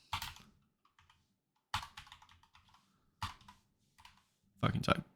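Bursts of typing on a computer keyboard, a few clustered clicks and short runs of keystrokes separated by pauses, close and fairly quiet.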